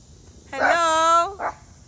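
A small dog gives one drawn-out, whining bark followed by a short yip, loud and close against a quiet outdoor background.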